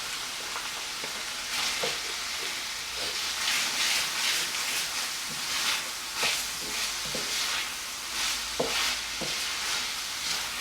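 Minced ginger and garlic sizzle steadily in an Instant Pot for fried rice, a continuous close hiss broken by occasional stirring scrapes and soft clicks, with no talking.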